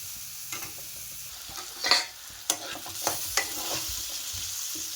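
Onions frying in a pan for a fish curry with drumsticks, a steady high sizzle with a few sharp stirring scrapes and clacks scattered through, close and without any voices.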